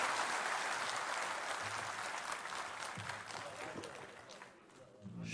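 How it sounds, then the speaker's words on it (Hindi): Hearty applause from an audience for Ashok at a talk with a journalist, a broad wash of clapping that gradually thins and fades, with voices faintly mixed in. "अशोक के लिए एक जोरदार ताली बजा दीजिए जरा सा।"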